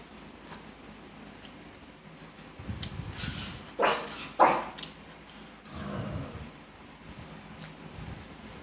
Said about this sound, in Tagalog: Yung aking mga alagang mini pincher na dalawa nandito sa tabi ko, nangihingi. Uy, huwag kayong maingay.